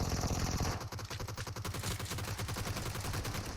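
Rapid full-auto AKM rifle fire in PUBG Mobile, loud and close, sustained bursts of dense, evenly spaced shots with barely any pause.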